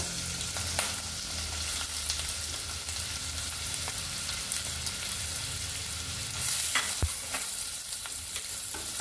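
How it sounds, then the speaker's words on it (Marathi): Chopped onions fry in a pan with curry leaves, giving a continuous soft sizzle while a utensil scrapes and stirs now and then, with a couple of sharper knocks against the pan. "कांदे घातलेले, आता आपल्याला कांदा चांगला शिजून द्यायचा। कांदा शिजतोय"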